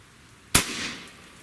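A single sharp, loud shot from an AEA HP SS Max .35 caliber airgun pistol rings out close by, followed by a short fading tail, with no talking.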